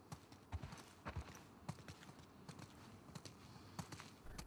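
Horse hooves clip-clopping in The Last of Us Part II, a steady run of distinct hoofbeats at a walking pace over faint background ambience.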